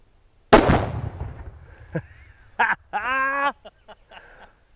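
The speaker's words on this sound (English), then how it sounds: "So let's blow up a couple of star targets and have some fun." Star targets hit by a .30 T/C rifle: one loud, sharp blast that fades quickly, followed by scattered, faint squeaky tonal sounds at a distance.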